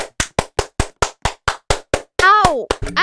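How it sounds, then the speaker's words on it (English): Hand clapping in an online voice chat: about eleven sharp, evenly spaced claps in quick succession, loud and close, broken near the end by a brief yelping voice before a few final claps. "we give a round of applause"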